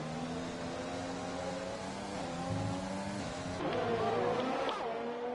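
In an F1 video game, race cars run at the Spanish circuit with steady engine whine, layered tones rising and falling as a train of cars passes. Commentary is spoken over the engines.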